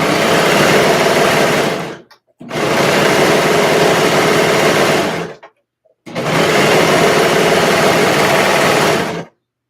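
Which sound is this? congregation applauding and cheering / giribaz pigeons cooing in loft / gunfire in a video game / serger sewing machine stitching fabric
serger sewing machine stitching fabric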